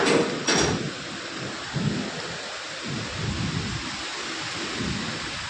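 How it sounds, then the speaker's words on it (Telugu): Heavy rain pours steadily outdoors in a residential colony, with a loud thunder crack near the start and low rumbles rolling underneath the constant hiss. "వర్షం గట్టిగా పడుతుంది, ఇలాగలా కాదు."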